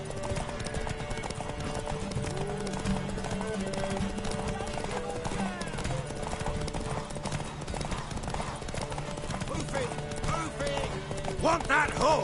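Horse hooves clip-clopping at a steady gallop in The Witcher 3, running continuously under game music and character voices throughout.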